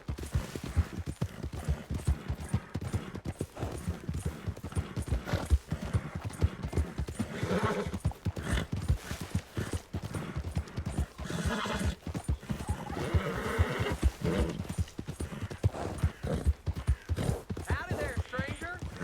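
Horse hooves clip-clop steadily through Red Dead Redemption 2 game audio, with a horse neighing and whinnying at times and other busy game sounds layered throughout.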